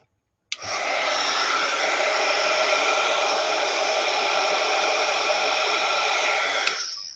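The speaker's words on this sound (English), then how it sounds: "I use my heat embossing tool more for watercolor than anything else" A heat embossing tool blows hot air to dry watercolor paint, a steady broadband whoosh like a small hair dryer that switches on abruptly and runs evenly for several seconds before cutting off.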